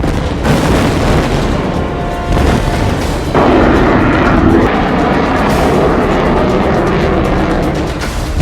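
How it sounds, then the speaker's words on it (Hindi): A Rafale fighter jet from France, being inducted into the Indian Air Force, roars loudly and steadily, with heavy rumbling thrust and a surge partway through. "सुबह 10 बजे होने वाले इस कार्यक्रम में फ्रांस से मिले 5 राफेल लड़ाकू विमान एयरफोर्स का हिस्सा बन जाएंगे।"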